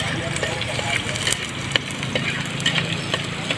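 Onions sizzle and crackle in a hot pan as they fry toward brown, a dense steady hiss with small pops and occasional stirring scrapes, a voice talking over it.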